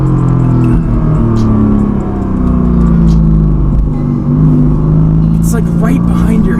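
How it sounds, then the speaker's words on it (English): A 2018 Mercedes-AMG GT S engine rumbles loud and close with revving exhaust, a few sharp crackles near the end, while a person talks over it. "Nothing gets the cracks and bangs like these AMG engines."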